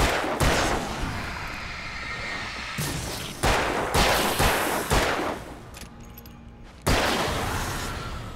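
Gunshots fired at evil gardeners in the video game Alan Wake, sharp loud cracks spaced irregularly, including a close pair, over a dark rumbling game ambience with no talking.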